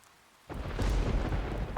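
Thunder in the video game Persona 4 Golden: a sudden loud, low rumbling crack that bursts in after a quiet moment and rolls on heavily to the end.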